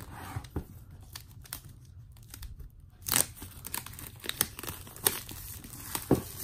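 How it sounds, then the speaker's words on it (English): Apple TV 4K box packaging being cut open and lifted, with quiet crinkling, tearing and scraping of cardboard and plastic in a run of soft, irregular bursts that grow busier midway, close by and with no talking. "Gonna just go ahead and cut that side there. This should allow me to open it up."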